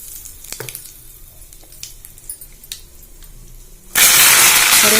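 Mustard seeds, urad dal and chana dal sizzle loudly in hot oil, a sudden bright crackling burst that starts late and holds steady, after a quieter stretch of faint clinks and small kitchen sounds.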